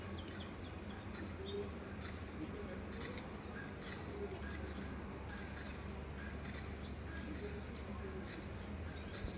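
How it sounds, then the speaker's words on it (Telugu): House sparrows chirp at a hostel in the morning, their small, scattered calls fairly faint above a steady background hum throughout. "మార్నింగ్ మా హాస్టల్లో పిచ్చుకలు అరుస్తే చూడు, వినడానికి చాలా ప్రశాంతంగా అనిపిస్తుంది"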